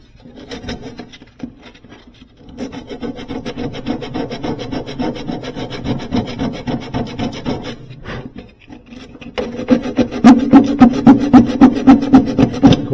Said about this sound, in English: this is going to help score the aluminum and give it something to bite into